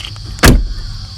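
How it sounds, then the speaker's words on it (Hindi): A single loud, close thud of a Tata Tiago 2021 car door shutting during a pre-delivery inspection, with quiet cabin ambience before and after. "तो आप सारे गेट्स को ओपन करें, बंद करें और इसको अच्छे से एक बार चेक कर लें।"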